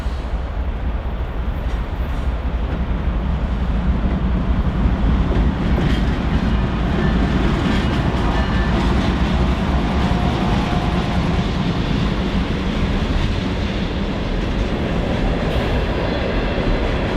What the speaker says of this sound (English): Next in line just 5 minutes later was the CNU 745 with 45 empty hoppers for loading at the Tilden Mine